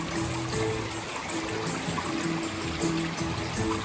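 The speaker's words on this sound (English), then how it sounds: "There's a cool stream here with a bunch of shells." A small coastal stream runs constantly over a bed of shells down toward the ocean as the tide goes out, making a steady, close trickling wash with no pauses.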